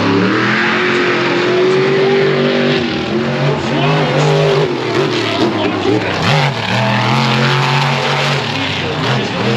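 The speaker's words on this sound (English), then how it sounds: "We've got a monster truck dash." A monster truck engine revs loudly and close during a monster truck dash at Charlotte Motor Speedway, a sustained roaring drone with rising and falling pitch as the throttle swells.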